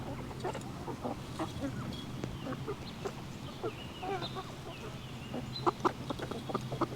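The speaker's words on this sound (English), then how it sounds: "watch the chickens" Chickens cluck and murmur in short, scattered bursts around a backyard, faint and close, over a soft steady background hum.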